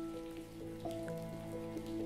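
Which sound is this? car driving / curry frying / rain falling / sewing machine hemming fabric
rain falling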